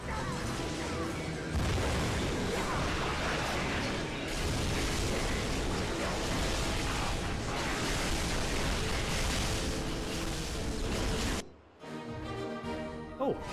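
Dense, continuous blasts and crashing booms from the Ratchet and Clank: A Crack in Time video game fill nearly the whole stretch at steady loudness, then cut to a quieter, tonal passage near the end.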